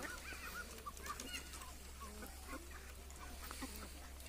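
Ducks on a combined duck and fish farm give faint, scattered quacks and honking calls over a low steady hum, somewhat distant and quiet.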